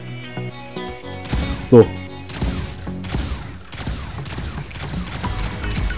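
A new weapon fires in the video game Sausage Man, a rapid series of close, punchy gunshots in a steady rhythm, with someone talking briefly over it.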